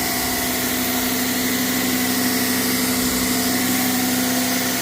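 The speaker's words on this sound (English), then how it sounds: "We're going to pull this tractor ahead." Tractor engine idling nearby, a loud, steady low hum with a strong droning tone and constant vibration that does not change over the whole stretch.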